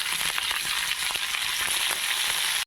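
Chopped vegetables hit a hot pan for broken-wheat khichuri and fry with a dense, even sizzle that carries on steadily for a few seconds.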